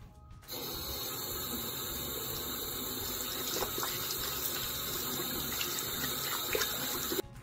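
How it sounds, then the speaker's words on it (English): Sink tap running steadily as hands are washed with soap, a constant close splashing water flow lasting several seconds without talk. "we're gonna take some soap and we're gonna wash my hands in the sink for 20 seconds"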